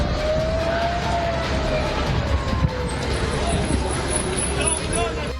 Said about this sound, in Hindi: तेल अवीव में सायरन की गूंज है